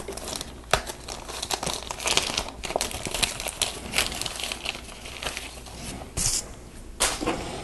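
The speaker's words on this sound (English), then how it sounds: "So I'll cut this bag open." A sealed plastic bag holding Lego sails crinkles and crackles up close as it is cut open and handled, the rustling continuous with sharper snaps and a brief tearing swish near the end.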